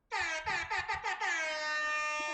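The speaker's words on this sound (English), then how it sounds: "I thought a DJ air horn would be the best way to wake them up" A DJ air horn blares up close in a few quick stuttering bursts, then holds one long sustained honk that fills the room.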